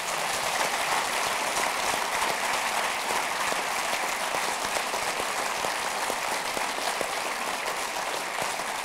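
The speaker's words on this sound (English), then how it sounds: "I'd like you to give each of our panelists a great round of applause" Sustained applause from a university lecture audience for a panel, dense and even clapping from a large crowd filling the room, steady and loud throughout without talk.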